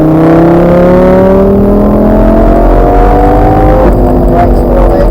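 A 560 hp Lamborghini lapping the Top Gear track, its engine loud and close, rising in pitch through the gears with a brief shift before settling into a steady roar.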